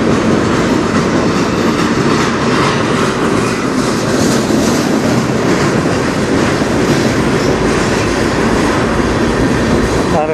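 A CN freight train rolls past on the Strathroy Subdivision at dusk on a cold day, a loud, close, continuous rumble with wheel clatter that holds for the full stretch.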